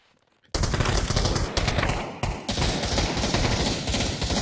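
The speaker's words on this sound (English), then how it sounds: "They're all shooting! Why are they all shooting?" Dense, loud automatic gunfire from several players in a Halo Zombie match of the VR shooter Pavlov, with rapid overlapping bursts starting abruptly after a brief quiet moment and continuing without a break.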